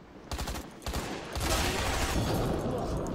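Gunfire and an explosion in the shooter game Hazard Ops: a rapid burst of shots, then a louder, sustained blast and roar that fills the rest of the moment, with no talking over it.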